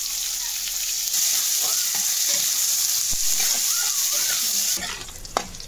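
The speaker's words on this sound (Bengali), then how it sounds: "ভালো করে আমি লাল লাল করে এগুলো ভেজে নেব" Sliced onions sizzle steadily in hot fish oil with a tempering of cumin seeds in the pan, a close, continuous hiss broken by a few soft stirring scrapes and one sharp clink near the end.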